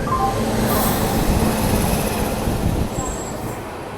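A passenger train arrives at a platform at an Indian railway station, a loud, continuous rumble and rolling clatter with faint station noise, easing off slightly near the end.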